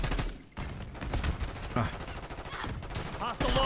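Gunfire in the shooter Black Ops 6: a few scattered, sharp reports mixed with game effects and background noise, fairly close but uneven and not continuous.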